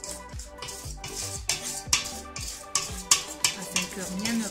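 Chocolate tart filling is stirred and scraped in a food processor bowl, with a steady run of rhythmic, fairly loud scraping strokes about every half second, close by.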